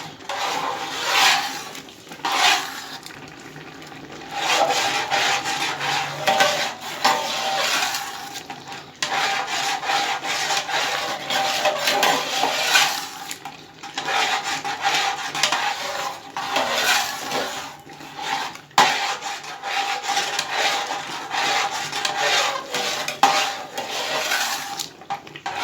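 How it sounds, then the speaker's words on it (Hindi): A spoon stirs milk for gajrela continuously in a pan, producing constant scraping and rubbing against the metal with a few brief pauses, close and fairly loud. "चम्मच आपने कंटिन्यूसली इसमें यूज़ कर हिलाना है ताकि ये नीचे ना लगे"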